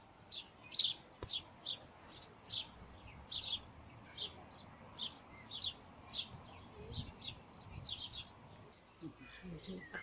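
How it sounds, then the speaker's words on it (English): Sparrows and other birds chirp in a park, a string of short, bright tweets repeating every half second or so, moderately near over a faint outdoor background hum. "and the bird song."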